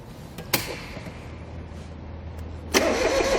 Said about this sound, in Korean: 시동을 걸어야 로타리 뒤에 작업기가 상승하기 때문에 우선 시동을 걸겠습니다.